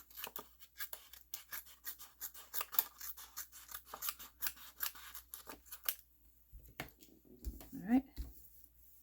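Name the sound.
scissors trimming card paper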